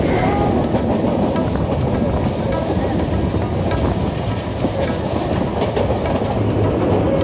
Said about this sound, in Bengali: এখন আমরা ট্রেন দিয়ে মেঘনা নদী পার হচ্ছি